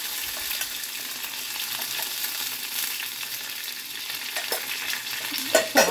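Dried red chillies sizzle and crackle in hot tempering oil, a continuous close frying hiss with a few sharper pops near the end and no talking.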